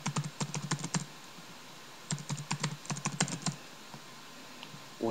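Rapid bursts of computer keyboard typing while registering on a forum, clattering in two clusters separated by a pause, close and alone without speech.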